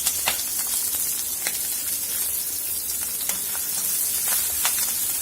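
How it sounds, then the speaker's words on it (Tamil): Onion, curry leaves and green chillies sizzle in hot oil in a pan for banana flower kootu, a steady dense crackling hiss with a few sharper pops, close and alone. "வெங்காயம், கருவேப்பிலை, பச்சை மிளகாய் எல்லாம் போட்டுறோம்."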